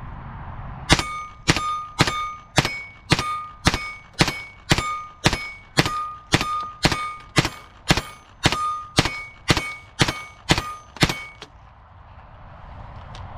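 22WMR rounds are pushed one by one into an extended AR-15 magazine, about twenty crisp metallic clicks at an even, unhurried rhythm, close and distinct, then quiet.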